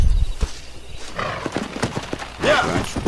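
A horse in the Red Dead Redemption video game whinnies loudly near the end after a run of clopping hoofbeats, with scattered rustling and thuds around it and no talk over the sounds.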